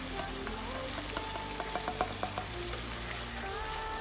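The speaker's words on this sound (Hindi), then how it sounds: "इसी में हमें 2 टमाटर की प्यूरी डालना है।" Tomato puree poured into a pan of fried onions, hissing and sizzling steadily at close range with a few stirring clicks and scrapes partway through.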